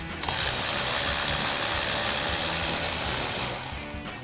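On a Silverado 1500 pickup, a ratchet works at the front ABS bracket just behind the brake rotor. It gives a dense, continuous mechanical whir that sounds like a power ratchet running steadily for about four seconds, close up with no speech.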